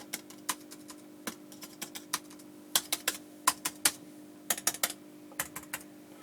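Quick, light keystrokes click on a Dell XPS 13 2-in-1 (2019, model 7390) laptop keyboard in irregular bursts, with a few heavier thumps of the spacebar, close and fairly quiet.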